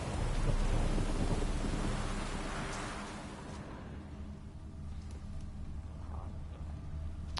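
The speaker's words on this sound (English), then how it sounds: "The first rumblings of thunder sound in the distance." Thunder and rain in the game Witcher 3: a heavy wash of steady rainfall with deep rolling thunder that swells loud at first, then eases into a softer, continuing downpour with faint distant rumbles.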